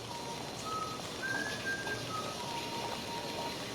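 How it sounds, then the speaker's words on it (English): Faint melodic whistling of the Sonic Unleashed main theme drifts through a Spagonia alleyway in the video game, a thin tune of sustained notes rising and falling over steady ambient background noise. "If you listen closely in this alleyway in Spagonia, you can hear someone whistling the main theme of the game."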